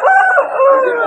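A rooster crows once, loud and close, at a rooster market in Vijayawada. It is an Albras/Kupparege bird weighing about 3–4 kg, and the call is drawn out and wavering.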